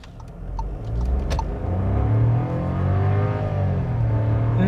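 A Volkswagen Nivus Comfortline 200 TSI under full throttle: the engine note climbs loud and close, building steadily through the gear with a strong continuous drone and no talk.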